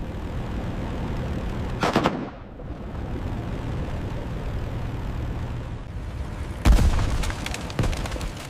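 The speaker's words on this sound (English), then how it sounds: "He fired his rifle into the sky." A 1914-era French rifle fired into the sky cracks sharply twice, several seconds apart, over a constant heavy rumble of wartime background noise.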